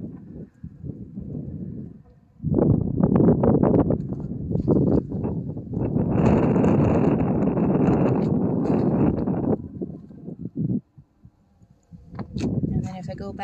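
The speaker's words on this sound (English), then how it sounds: "Ooh, that wind is cold." Cold wind blowing outdoors during snowfall, loud gusty rumbling buffets against the microphone that come and go in bursts, with a voice speaking briefly around them.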